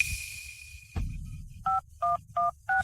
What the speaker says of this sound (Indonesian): Jason, ayo telepon 911